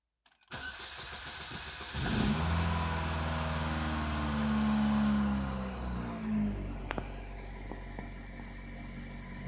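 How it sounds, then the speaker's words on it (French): A car engine cranks with difficulty for a couple of seconds before catching, then revs and settles into a steady idle, close and alone with no speech. "On a un peu de mal à démarrer, mais elle démarre."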